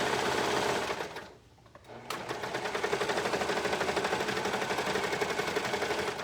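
Sewing machine running a long continuous stitch around the curved edge of a wool bag, thicker at the bottom where a pocket is basted in; rapid steady needle clatter that pauses briefly near the start, then resumes evenly and close.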